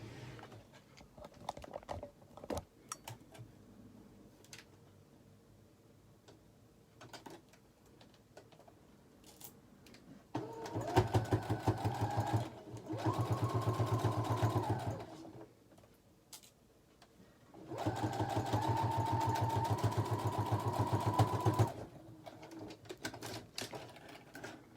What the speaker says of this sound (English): you just want to stitch along your folded edges